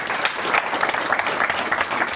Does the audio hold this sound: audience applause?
yes